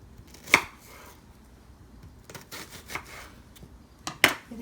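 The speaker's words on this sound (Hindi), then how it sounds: "स्क्वायर हिस्सों में काटेंगे।" A knife cutting a peeled onion into square pieces on a board, a few sharp separated chops with lighter cutting sounds between them, close and without talk.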